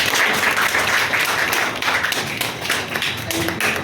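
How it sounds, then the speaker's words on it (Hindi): An audience applauds a student for his final SSC MTS selection, dense continuous clapping from many hands, loud and sustained throughout. "इनके लिए जोरदार ताली।"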